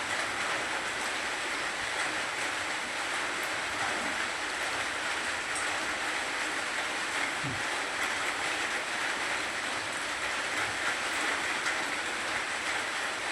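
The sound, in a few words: rain falling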